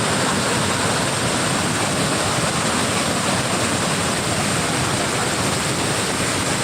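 The overflowing Thirparappu waterfall in Kanyakumari roars in a loud, constant rush of falling water with no pauses and no voices, heard close.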